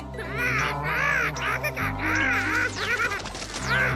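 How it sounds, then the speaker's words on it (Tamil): A jungle crow caws repeatedly as a cartoon sound effect in the Tamil-dubbed Ninja Hattori animation, with harsh, wavering calls coming in bursts, mixed with a short crash and busy animated background sound. "நேரங்காலம் தெரியாம இந்த அண்டங்காக்கா என்ன பழி வாங்குதே."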